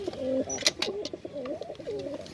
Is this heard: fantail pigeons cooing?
yes